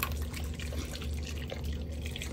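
Water poured into a pressure cooker, about half a liter, making a soft, steady trickling and splashing wash that runs faint and continuous under a low background hum, with no voices.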